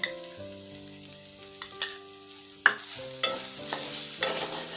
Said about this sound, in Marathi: आणि हा नारळाचा पीस व्यवस्थित परतून घेणार आहोत